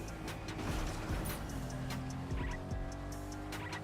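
A car in Fortnite pulls away with a steady engine drone and brief tire noise, loud and continuous throughout, with no voices over it.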